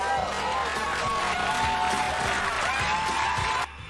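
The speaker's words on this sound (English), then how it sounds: "Say they clapping like it's entertainment" Studio audience clapping and cheering on a TV talk show, a loud continuous roar of hands and shouts that cuts off abruptly just before the end.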